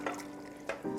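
Garbanzo beans being stirred into a pot of vegetable soup with sausage: brief wet sloshing and scraping strokes, a few quick close swishes in about a second.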